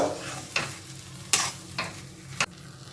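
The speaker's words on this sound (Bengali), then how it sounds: "এবার চিনিটা কিন্তু আমি সুন্দর করে মিশিয়ে দেব।" Sugar being stirred into a pan of broken-potato curry, four or five distinct scraping strokes of a spoon against the pan over a soft background sizzle, close and fairly loud.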